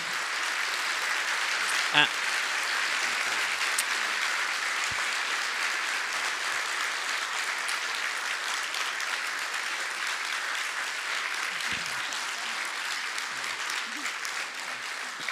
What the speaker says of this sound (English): you will have a very, very warm applause from the audience